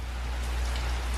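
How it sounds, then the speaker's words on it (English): Steady rain pours down in a dense, continuous hiss with a deep low rumble, loud and unbroken throughout, with no voices. "There's the rain."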